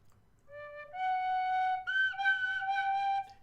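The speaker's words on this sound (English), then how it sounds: "there are certain notes at which the whistle breaks because it's like I'm fighting it" A Shush Pro High D tin whistle blown hard, holding bright sustained notes that crack and jump between registers as it is overblown, loud and alone.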